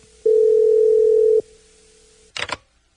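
A telephone ringback tone sounds once as a single steady, clear ring lasting about a second. A faint lingering tone and a brief click-like burst follow as the call connects.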